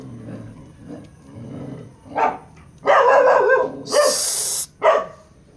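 Dogs bark in loud, overlapping bursts close by, with a quieter stretch of low rustling before the barking erupts.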